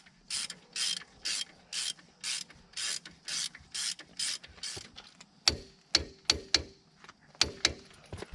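Wrench ratcheting in short bursts of clicks on the caliper guide pin bolts of a 2003 GMC Sierra 2500HD front brake, close and fairly clear, several strokes followed by sharper single clicks.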